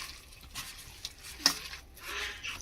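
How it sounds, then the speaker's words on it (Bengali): Raw grated potato and egg mixture being kneaded by hand in a bowl, giving faint, soft wet squishing and sticky stirring sounds with a couple of light clicks, quiet and close. "এই সমস্ত উপকরণগুলোকে আমি বেশ হাত দিয়ে ভালো করে মেখে নেব"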